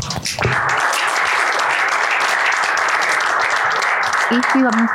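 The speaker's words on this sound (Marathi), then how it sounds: "सो पुढच्या परफॉर्मन्ससाठी टाळ्या झाल्या पाहिजे" A live audience applauds at a show ahead of a performance of the Maharashtrian martial art lathi-kathi. The clapping is loud and sustained, with a host's voice briefly heard near the end.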